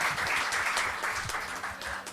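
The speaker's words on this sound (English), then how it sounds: "Can we give them a huge round of applause again?" An audience at a poetry session of a literature and art festival in Bhopal applauds, a short, steady burst of many hands clapping at moderate level, with no voices over it.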